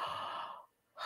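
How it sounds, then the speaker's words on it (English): A single deep breath, close and soft: a long steady inhale or exhale, a short pause, then the breath resumes. "let's take a deep breath"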